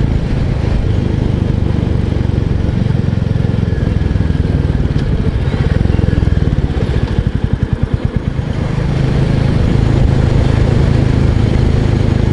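A Royal Enfield 350 Bullet single-cylinder motorcycle engine runs steadily on the road, its low thumping drone holding a fairly even pitch with a slight dip and rise in revs midway.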